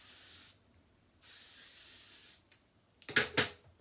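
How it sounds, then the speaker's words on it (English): Shine hairspray mists onto curled hair in two steady hissing bursts, followed by two short, sharper puffs near the end, close and clear in a quiet room. "And then also a light mist with the Shine spray."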